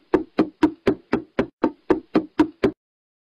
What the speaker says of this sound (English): I can't wait to knock PC Guy's door.